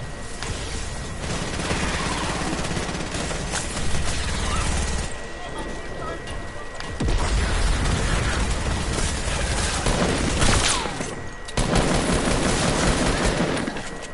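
Gunfire from a shooter video game: repeated bursts and shots run through the whole stretch, loud and dense, with people talking over the game action.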